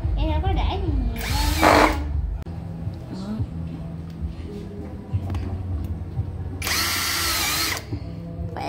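A new, lighter electric power drill runs in two loud bursts, one near the start and one near the end, with people talking throughout.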